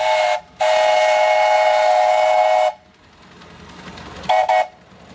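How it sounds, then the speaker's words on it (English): A loud whistle on a 7¼-inch narrow gauge steam locomotive blows one long, steady blast after a short opening toot, then two brief toots follow after a pause. "a whistle you can hear for miles"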